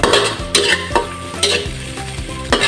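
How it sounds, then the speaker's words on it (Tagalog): Squid balls stir-fry in a hot pan, loud close sizzling broken by a regular rhythm of scraping stirs about every half second, with no voices. "Isunod po natin stir fry itong ating squid balls"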